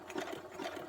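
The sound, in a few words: sewing machine stitching zigzag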